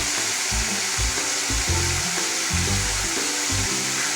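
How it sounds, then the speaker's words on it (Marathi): Salted onion greens sautéing in a pan, a loud steady sizzle broken by rhythmic stirring scrapes about twice a second, close up and without speech. "त्याला चांगलं असं परतून द्यायचे आणि थोडं झाकण ठेवून द्यायचं"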